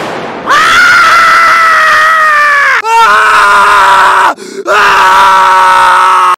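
Loud, sustained human screams with groaning, heard alone as a sound effect: a long anguished cry, a short break, a second wail that dips, then a third scream continuing to the end.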